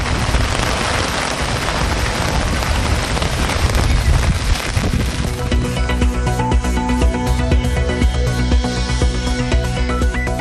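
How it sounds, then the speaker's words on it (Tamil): Summer rain pours steadily in Tamil Nadu, a dense continuous hiss of drops on surfaces that stays loud throughout, with a brief shift in texture midway and no voices. "தமிழகத்தின் பல்வேறு பகுதிகளிலும் பரவலாக கோடை மழை."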